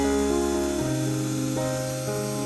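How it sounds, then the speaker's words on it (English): A steady, loud whine of a power drill with a 3.5mm bit running continuously, its motor pitch shifting slightly as it bores into material. "I'm now having to use my drill because the Dremel can't take"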